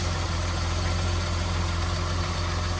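A 1982 BMW E21 320 two-door automatic with a six-cylinder engine idles smoothly and steadily up close, a constant loud hum with an even low pulse and no talking.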